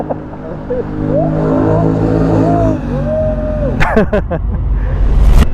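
A CF Moto 450MT motorcycle rides along a road in Batangas, its engine droning steadily with shifting harmonic whine, then a rising rev burst near the end, with a few brief voices mixed in.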